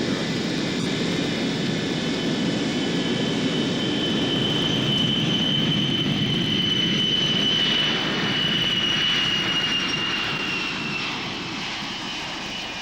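A jet aircraft departing from the Caucasus for Canberra roars steadily and loudly, with a high whining tone that gradually shifts pitch and slowly fades near the end.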